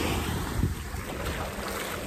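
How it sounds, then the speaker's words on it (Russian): Calm ocean bay water washes onto a beach as a continuous soft rush, heavily mixed with wind buffeting the microphone and without distinct breaking waves. "Послушайте, как шумит океан, точнее океанский залив."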